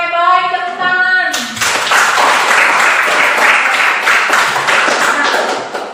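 Classroom applause from a group of students breaks out after a brief voice and continues as steady, dense clapping for several seconds, loud and close.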